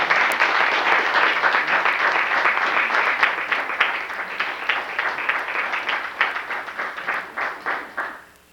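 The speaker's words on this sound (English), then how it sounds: "We'd like to give another round of applause for cultural expression" A round of applause from an audience at a 1993 keynote session, dense and loud at first, then thinning into scattered individual claps that fade out near the end.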